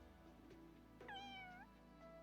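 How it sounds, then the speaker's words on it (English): A cat's meow from the video game Fire Emblem Engage, a single clear rising-and-falling call lasting about half a second, heard over faint game background music. "Yeah, we'll take the Pyrenees cat too."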